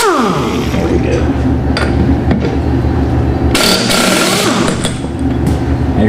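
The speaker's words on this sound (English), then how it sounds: "I have got an air tool" A pneumatic air tool loosens a bolt on a mini hotrod engine during an engine swap. Its loud, continuous rattling whir runs nonstop at close range, and a brief voice is nearly buried beneath it.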